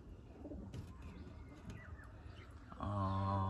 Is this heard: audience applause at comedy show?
no